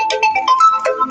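A mobile phone ringtone sounds close and loud, a quick melodic run of bright electronic tones signalling an incoming call, with no talking over it.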